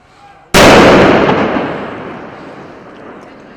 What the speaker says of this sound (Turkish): yol ortasına bırakılan bavul fünye ile patlatıldı